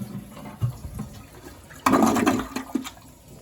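A Toto 1.6-gallon toilet flushes with a sudden loud rush of water, then a gurgling, draining swirl that fades over a couple of seconds, heard up close indoors.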